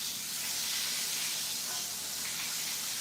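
Vegan cutlets frying in a pan with no wet batter, a steady broadband hiss and sizzle of hot oil that holds even and close throughout, with no talking.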